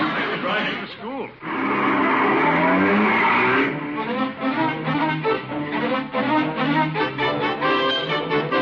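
In a radio drama, a car speeds off with a long tire squeal and an engine roar. Voices and dramatic music follow over the fading effect.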